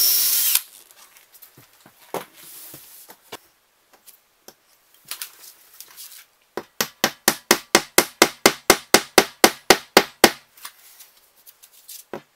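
A power drill bores into a bedroom wall to set a screw and wall plug. After some scattered handling knocks, a steady series of about a dozen loud, evenly spaced hammering bursts is heard up close.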